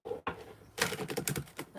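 Tarot cards are shuffled by hand in quick bursts, a short riffle, a pause, then a longer run of crisp rapid clicks and flutters, close and fairly quiet.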